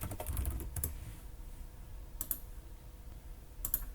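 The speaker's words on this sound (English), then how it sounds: "write the link here and press Enter" Sparse clicks from a computer keyboard as a web link is typed and Enter pressed, a few quiet, close taps spaced out over a few seconds against a low room hum.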